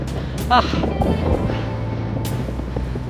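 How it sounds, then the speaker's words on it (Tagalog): Steady low rumbling wind buffets the microphone throughout, with a voice talking briefly over the roar. "Sobrang lakas ng hangin guys"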